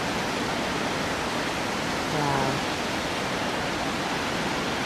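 Steady broadband roar of a waterfall rushing beneath a rainbow, filling the scene continuously and fairly close, with a brief exclamation from a person partway through.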